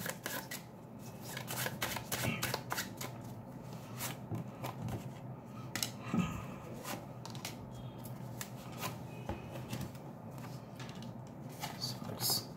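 Tarot cards are shuffled by hand in rapid, crisp riffles and flicks, repeated close-up throughout, with faint talk underneath at times.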